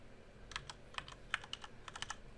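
Clicks from a computer keyboard as commands are typed into a Cisco Packet Tracer SSH lab, irregular bursts of close, crisp keystrokes over a quiet background.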